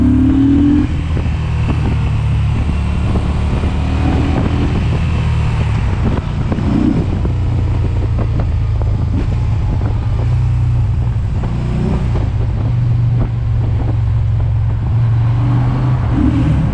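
A 2020 Yamaha XSR 950 scrambler motorcycle riding along, its engine a steady, loud rumble under heavy wind noise throughout, with no talk.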